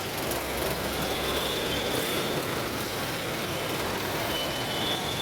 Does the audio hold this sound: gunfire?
no